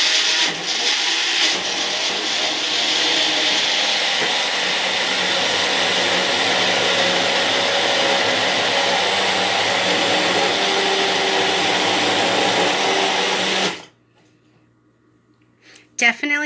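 A loud, steady blender whir pulping paper and water runs for about fourteen seconds, then cuts off abruptly, leaving near silence and a faint clatter.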